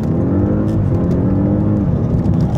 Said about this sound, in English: let's do another quick run, even though there's a little traffic. Do a 0 to 60,